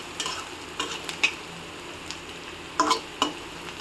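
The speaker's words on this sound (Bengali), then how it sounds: "পেঁয়াজটাকে ভালোভাবে একটু লাল করে ভেজে নেব।" Onions with cumin frying in a pan, giving a soft low sizzle broken by a few sharp scrapes and stirring knocks, with a pair of louder stirs near the end; no one speaks.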